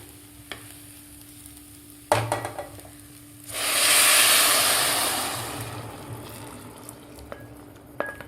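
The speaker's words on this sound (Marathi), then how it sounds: "आता यामध्ये आपण फोडणी दिलेली कढी घालूया" Tempered kadhi made from buttermilk is poured into soft dal khichdi and stirred, giving a soft broadband sizzling wash that swells midway and fades, with scattered clinks of a spoon against the pot before and after.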